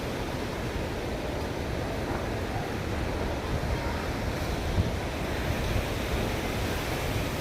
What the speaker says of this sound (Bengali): শুধু হাওয়াটা শোনো, শুধু হাওয়াটা শোনো চারিদিকে।